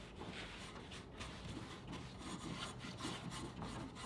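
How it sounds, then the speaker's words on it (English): A brush works clear wax over white wax on a wooden furniture piece, giving soft, quiet rubbing strokes in an uneven back-and-forth rhythm, close up and alone. "I'm just coming back with the DIY clear wax right over the top of that white wax to kind of soften the brush strokes"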